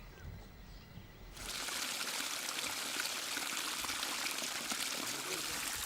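Water gushes steadily from a solar-powered pump outlet into a reservoir in a forest sanctuary. Quiet surroundings give way to a sudden, continuous splashing pour that stays close and even.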